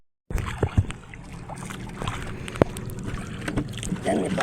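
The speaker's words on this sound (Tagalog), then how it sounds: "bangka ni Romel yung dumaan sa atin." A small new wooden fishing boat putters past nearby, its engine droning steadily under water sounds and faint background noise.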